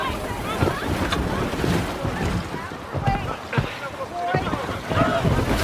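A rescue boat picks up passengers on the water in the film Sully, with rushing wind and churning water heard close and loud beneath raised voices.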